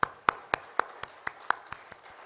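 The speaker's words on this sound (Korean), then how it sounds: "오늘 또 우리와 함께 하실 주님께 영광의 박수 올려드리겠습니다." A church congregation claps in unison, giving nine crisp, evenly spaced claps at a brisk tempo in a reverberant hall. The claps gradually soften toward the end, with no talk over them.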